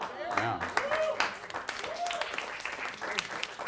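Audience applause and clapping at a live comedy and magic show, a broad patter of hands rising under a performer speaking over it.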